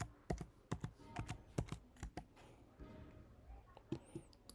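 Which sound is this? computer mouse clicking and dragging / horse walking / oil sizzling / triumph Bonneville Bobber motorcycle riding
computer mouse clicking and dragging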